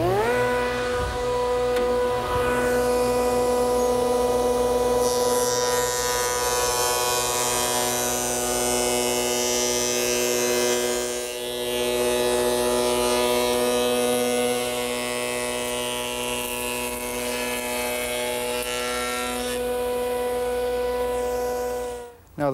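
Wood shaper fitted with a panel raising cutter milling a wooden panel blank held in a miter gauge, a loud steady motor whine with harmonic hum and rougher cutting noise through the middle, ending abruptly.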